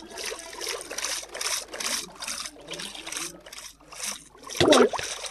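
Swimming sounds from the Minecraft video game: a player moving through water, with repeated rhythmic swishing splashes about every half second, ending in a sharper louder splash and gurgle, moderately close.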